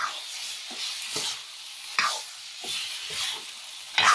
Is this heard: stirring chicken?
yes